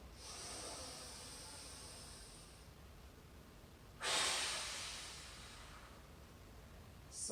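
A deep breathing exercise: a long, soft airy exhale, a pause, then a sharp, strong breath that trails off, and the start of another breath at the end, close and quiet.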